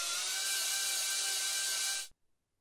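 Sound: oscillating saw cutting a cast

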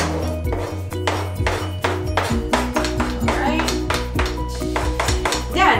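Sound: hard-boiled eggs being added to a salad bowl

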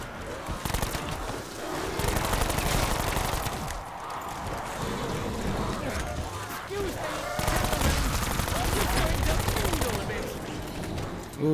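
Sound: pistol gunfire in video game Black Ops

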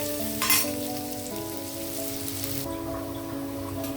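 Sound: onions frying in oil until brown

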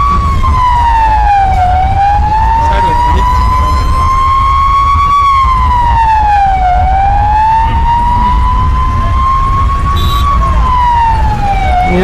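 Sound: ambulance siren stuck in traffic jam

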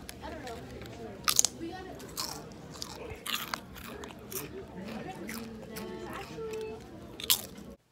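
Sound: crunching and munching potato chips

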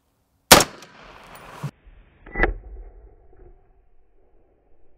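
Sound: 7.62x39 rifle shot into body armor plate

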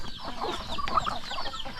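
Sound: chickens clucking in a coop

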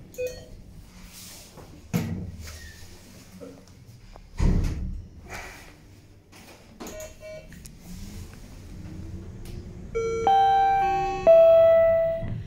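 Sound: Vestner elevator door closing

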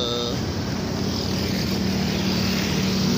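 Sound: riding a motorcycle at night

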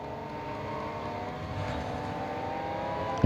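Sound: V12 race car engine, video game

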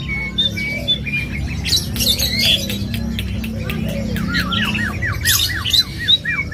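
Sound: Asian pied starling (jalak suren) singing loudly in bird market

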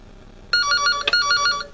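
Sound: telephone ringing

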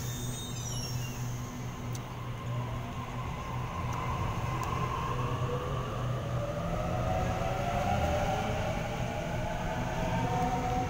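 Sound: Sydney Waratah train departing from the platform

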